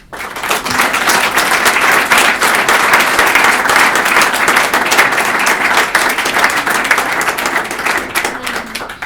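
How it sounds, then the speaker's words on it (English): A room full of people applauds the speakers at the end of an event on successful Italians in the Bay Area, loud continuous clapping sustained evenly for about nine seconds. "I would love to have a round of applause for them"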